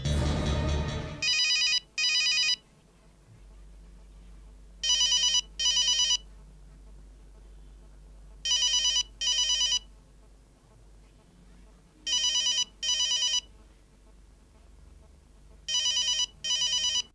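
A telephone rings in repeated double bursts of bright electronic trills, five pairs evenly spaced across a quiet room with a low hum underneath.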